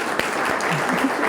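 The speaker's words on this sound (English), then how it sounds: "give her a round of applause" Short burst of audience applause at an ocean-themed seminar as a woman is welcomed up to speak, broadband clapping filling the room with a faint voice showing briefly beneath it.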